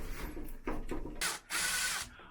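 Hose clamps being loosened on a stainless steel exhaust vent of a tankless water heater: a few close ratcheting and scraping bursts of metal, separated by short gaps.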